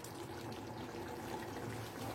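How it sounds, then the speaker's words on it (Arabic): Broth thawed from the freezer poured into tomato sauce in a cooking pot, a steady soft trickle of liquid running continuously and fairly quiet throughout. "هبتدي بقى احط شويه شوربه عشان تسويها"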